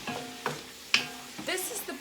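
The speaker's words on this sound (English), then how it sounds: "I'm gonna give that another quick stir and keep breaking up the meats" Meat being stirred and broken up in a pot of sizzling Sunday gravy spaghetti sauce, with a few scraping spoon strokes over a steady close frying hiss.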